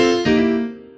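A single piano chord struck and left to ring, close and clear, decaying over about a second.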